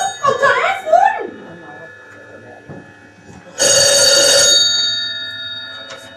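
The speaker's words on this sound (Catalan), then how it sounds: "El telèfon!" An old-style telephone bell rings in one loud metallic burst about a second long, following a brief stretch of a voice at the start.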